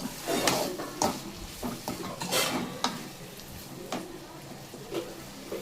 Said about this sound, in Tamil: தக்காளி வெங்காயம் நல்லா வதங்கணும்.